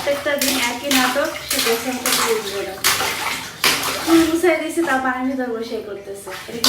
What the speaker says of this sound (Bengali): তারপর এখন চলে যাব আর শিয়াকে গোসল করাইতে